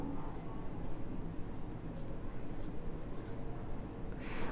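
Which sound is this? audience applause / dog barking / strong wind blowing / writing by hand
writing by hand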